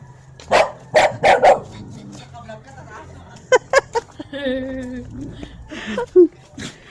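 A dog barks several times in short bursts, with a few more barks later, while people talk nearby.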